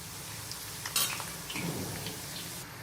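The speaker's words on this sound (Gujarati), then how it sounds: "આ રીતે આપણે એને તળવા દેશું।" Bhavnagari gathiya, a gram flour snack, frying in hot oil, a steady close sizzle with a brief metallic clink of a utensil and some stirring, with no voices.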